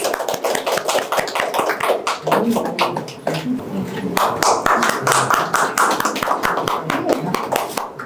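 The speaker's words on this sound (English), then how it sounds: "Yeah, can we give a big round of applause?" A crowd claps at the lamp-lighting inauguration of a left-hand drawings solo art show in Bengaluru, with close, sharp individual hand claps over a steady patter and voices talking underneath.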